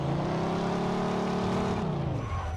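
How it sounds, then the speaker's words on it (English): A steady car engine in Mafia 2: Definitive Edition drones and revs loudly throughout, with a synthetic, game-like tone and a pitch shift near the end. "Oh, I hear that engine purr."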